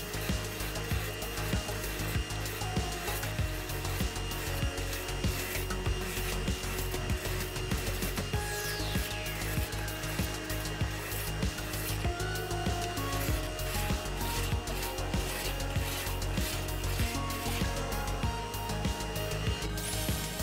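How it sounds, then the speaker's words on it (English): An oscillating belt sander grinds a wooden drum seat part to a line, a continuous close whirring rasp with a steady mechanical hum throughout, no talking. "Taking it over to the oscillating belt sander and sanding it to the line."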